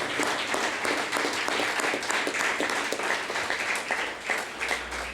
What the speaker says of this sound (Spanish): Dele un aplauso a su Señor.